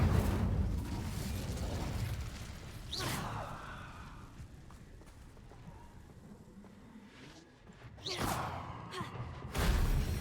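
An Incendio fire spell is cast in the Hogwarts Legacy video game, with whooshing bursts of flame. Two bright, sharp flares stand out above a low roaring background.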